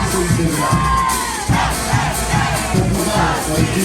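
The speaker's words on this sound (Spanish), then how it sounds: "Fuerte el aplauso, el cariño del público." Festival parade crowd at a Raymi celebration in San Simón, loud massed cheering, whoops and shouting that swell in waves, close and continuous with no distinct speech.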